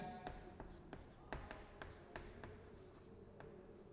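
Quick strokes and taps of writing on a classroom board as a teacher sets out a Python example, a steady run of short, faint marks with no talk.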